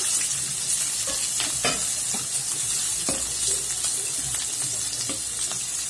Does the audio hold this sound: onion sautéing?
yes